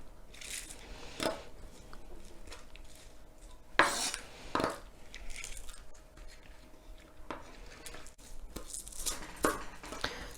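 Spring onions being finely chopped for traditional kimchi: irregular knife taps and scraping clatter on a board, fairly quiet, with pauses between bursts.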